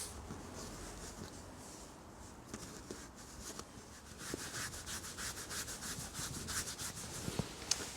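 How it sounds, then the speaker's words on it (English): Palm rubbing and smoothing four-way stretch carpet to stick it down inside a DIY motorcycle carrier, a close, soft continuous swishing that grows slightly busier in the second half, with no talk. "just run the flat of your palm across and make sure it's stuck"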